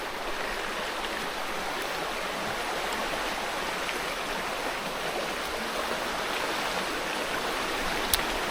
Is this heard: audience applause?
no